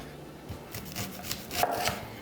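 A knife slices through onions on a board in a few soft, quiet cuts spaced irregularly, close and faint, with no talking.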